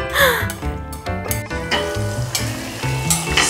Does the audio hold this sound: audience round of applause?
no